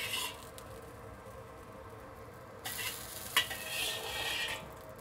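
Seared Chinese eggplant being lifted out of a hot wok with the heat just switched off, giving soft scraping and clinking of a utensil against the metal over a faint residual sizzle, with a brighter clatter partway through.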